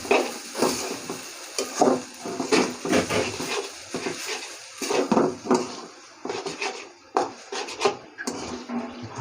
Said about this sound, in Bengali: এখন নুডলসটা দিলাম ভালো ভালো নেড়ে সেড়ে